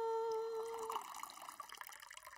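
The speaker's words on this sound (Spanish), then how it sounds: "Mi mezcla tiene media taza de agua." Water pours into a homemade bubble mixture of half a cup of water and a spoonful of detergent, a steady close trickle and splash that starts with a tone and breaks into a gurgling dribble.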